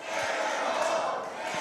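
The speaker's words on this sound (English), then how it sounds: "This crowd chanting for Manimal" A wrestling crowd at a Voltage event keeps up a steady, dense roar of chanting for Manimal, voices blending into one sustained wash of noise with no break across the moment.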